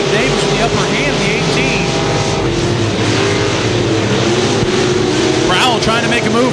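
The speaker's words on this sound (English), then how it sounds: "Top 4 cars battling out here in the final lap" Race cars battle on the final lap at Thunder Hill Speedway, their engines roaring loudly and continuously as they pass close by, with an announcer talking over the din.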